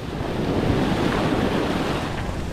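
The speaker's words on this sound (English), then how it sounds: "these waves are so big when they come, they just keep coming" Big ocean waves break on the shore in a constant, loud roar of surf, with wind buffeting the microphone and no pause between the breakers.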